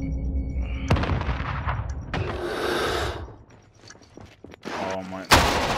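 Gunshots and booms in a shooter video game, a few sharp reports and heavier blasts scattered among game noise, with a player talking in places.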